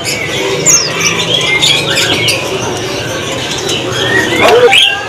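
Mantenan birds chirp and twitter in a busy bird shop, with scattered bright calls over a steady background murmur of shop noise.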